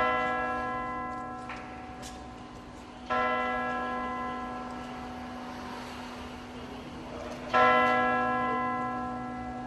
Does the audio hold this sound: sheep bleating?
no